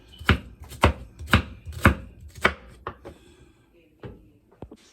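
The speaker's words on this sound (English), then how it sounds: "Okay, got my onions all diced up." Onions being diced with a knife on a cutting board for meatloaf: five evenly spaced, sharp chops, then a few softer, irregular cuts and knocks as the rhythm slows, close and clear.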